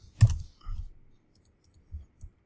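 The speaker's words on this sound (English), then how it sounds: "Notice I just did a triple click on that one." Computer mouse clicking during work in a word-processing document, a few soft close clicks including a quick triple click, separated by short pauses in an otherwise quiet room.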